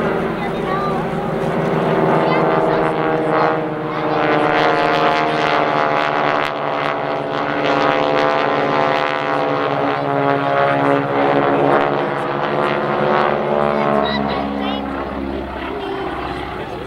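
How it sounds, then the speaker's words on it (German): A propeller airplane with an engine of about 220 horsepower drones loudly and steadily at an airshow in Dittingen, its pitch shifting slightly as it passes, with no talk over it. "Der Motor von diesem Flugzeug hat damals etwa 220 PS gehabt."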